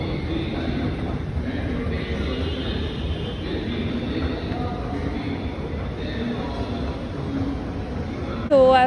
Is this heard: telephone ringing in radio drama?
no